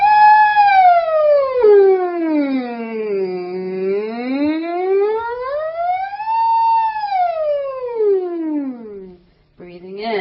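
A singer's voice imitates a siren in a vocal warm-up exercise, gliding smoothly up and down in pitch in slow repeated sweeps, clear and close, with a brief breath at the end.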